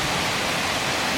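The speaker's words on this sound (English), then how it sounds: "You wanna go see the waterfall?" Steady, dense roar of a waterfall at Cachoeira do Cleandro in Itacaré, Bahia, Brazil, a broad unbroken rush filling the whole short stretch with no voices.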